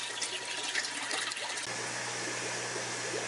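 Water pours steadily into a planted goldfish aquarium as the tank is refilled, a continuous rushing gush with a low hum beneath it, close and even throughout.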